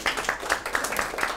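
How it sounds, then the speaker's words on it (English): Short round of applause from a small group on a television talk show, with rhythmic claps at an even pace and light overlapping chatter beneath. "Give him a round of applause, bestseller."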